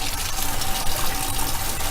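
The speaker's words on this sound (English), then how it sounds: "I can turn on the water" A kitchen or utility sink tap running at full flow, a steady, close, hissing rush of water with no pauses and no voices.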